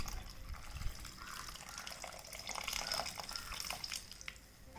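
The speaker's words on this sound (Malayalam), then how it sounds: "നമ്മൾ പുളി പിഴിഞ്ഞ് വെച്ചിരിക്കുന്നില്ലേ, അത് നന്നായിട്ടൊന്ന് പിഴിഞ്ഞിട്ട് ആ വെള്ളം കൂടി ഈ കൂട്ടിലേക്ക് ഒഴിച്ചു കൊടുക്കും" Squeezed tamarind water trickling and dripping into a rasam mixture in a home kitchen, a soft, continuous pour with faint splashes, fairly quiet and heard alone.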